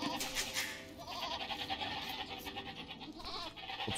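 Sheep bleat repeatedly in Age of Empires as British villagers work the flock in a 1v1 match, several overlapping bleats over a busy game soundscape with no talk.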